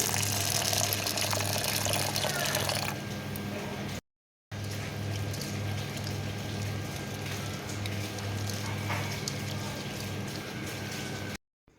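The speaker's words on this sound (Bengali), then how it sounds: "এখন এই সাবুদানাটাকে খুব ভালো করে ধুয়ে নিচ্ছি" Sago pearls being washed in water, a steady wash of running, splashing water that continues almost throughout with a brief break, with a low hum underneath.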